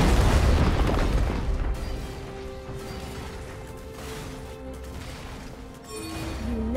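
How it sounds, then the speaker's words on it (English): A turret being destroyed in League of Legends sets off a heavy boom at the start, fading into a low rumble under game music and ambient tones. "Your turret has been destroyed."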